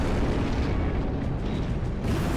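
A regular missile fired in the video game RAD, heard as a loud, dense booming blast of rumbling noise that fills the whole moment without pause.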